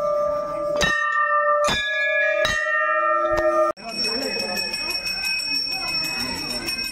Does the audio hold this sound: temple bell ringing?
yes